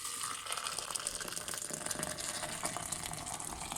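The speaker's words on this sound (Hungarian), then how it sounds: "Kész a forró víz. Szépen leforrázzuk." Hot water poured from a kettle over dry outer onion peels in a cup, a steady close gush and trickle throughout, with no talk.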